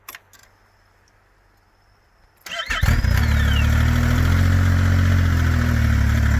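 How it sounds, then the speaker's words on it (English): A stock exhaust on a turbocharged TD engine fires up after near silence and then holds a loud, steady rev, with a rising whine sweeping over the broad, constant roar. "So, stock exhaust obviously is nice and quiet."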